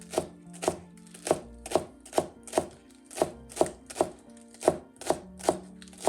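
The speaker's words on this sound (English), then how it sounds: "cut this green onion. We just chop it." A knife chops green onion on a cutting board in about a dozen steady, close, crisp thuds spaced roughly half a second apart, with no talking.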